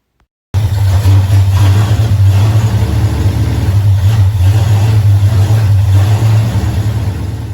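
Car engine with a newly installed Edelbrock fuel pump, idling loud and close with a steady low hum after an abrupt start, running evenly throughout.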